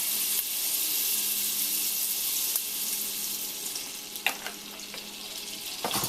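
Softened butter with a little oil sizzles steadily in a hot pan, a continuous close hiss with a few faint clinks near the end and no talking.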